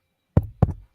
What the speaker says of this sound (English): Knocked on the door, pat pat.